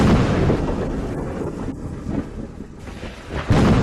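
Thunder sound effect in a dramatic scene, a heavy continuous rumble that swells and rolls for several seconds, loud and close with no talk.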